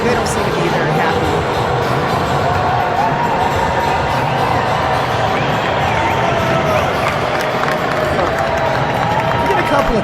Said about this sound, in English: he is at the U.S. Open and getting booed by New Yorkers in the city